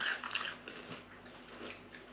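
Crunchy cheese doodles bitten and chewed close up, a few crisp crunches followed by softer mastication noises over about two seconds, no talking.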